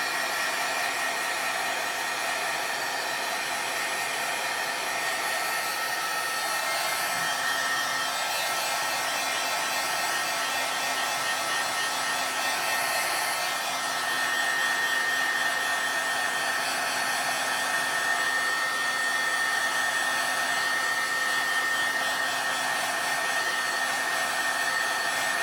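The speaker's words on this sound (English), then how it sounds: "just take your heat tool" Heat tool blowing hot air to dry wet watercolor paint, a continuous steady whirring hiss held close for the whole stretch, with no talking.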